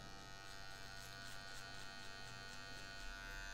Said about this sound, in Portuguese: Vou usar agora máquina de acabamento.